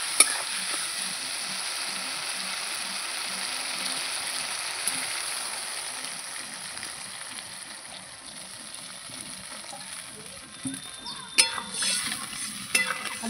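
Potatoes in masala for a pomfret curry frying in a pan and being stirred, a steady close sizzle with soft scraping strokes throughout, a few sharper clinks near the end.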